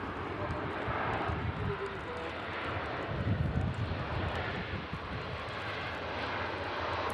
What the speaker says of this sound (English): Turkish A321 just arriving in on 23 right